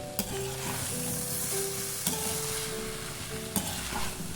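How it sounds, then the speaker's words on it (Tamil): Cooked vermicelli upma is stirred in a pan with onions, a soft steady sizzle with a few faint scraping clicks of the spatula, quiet and alone without speech. "வேக வைத்த சேமியாவை சேர்த்து கொள்ளவும். கிளறி விடவும்."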